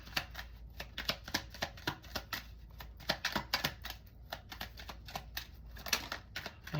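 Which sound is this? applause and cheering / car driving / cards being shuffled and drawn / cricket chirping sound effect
cards being shuffled and drawn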